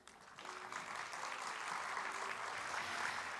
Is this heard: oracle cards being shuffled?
no